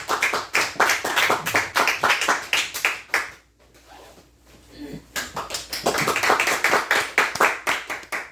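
An audience at a Korean meditation and hypnosis school session claps in sharp, fairly regular beats that briefly fade around the middle before resuming strongly, with a voice faintly present.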